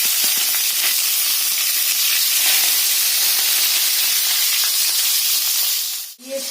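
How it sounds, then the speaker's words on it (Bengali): Flat beans frying in white oil give a loud, steady hiss and sizzle that runs unbroken for several seconds, then drops away sharply near the end. "সিম, বিনস এগুলো আমি একসাথে সব ভেজে নেব।"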